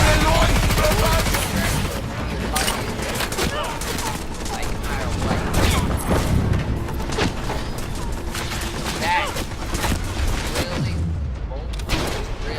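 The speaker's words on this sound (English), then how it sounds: "Aim above them, bullets coming down." Rapid gunfire in Cyberpunk 2077 crackles in dense bursts and sharp single shots for over twelve seconds, loud and close, mixed with game effects and a voice talking over it.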